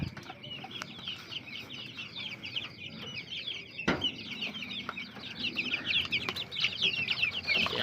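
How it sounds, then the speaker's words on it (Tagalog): A broody hen clucks softly and repeatedly in low, continuous murmurs, with faint chirping and rustling around her and no talking. "At ito naman yung ating bagong inahin na naglilimlim na."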